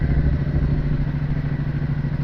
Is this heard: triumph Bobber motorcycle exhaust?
yes